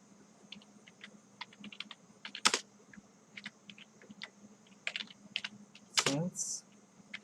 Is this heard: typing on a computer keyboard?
yes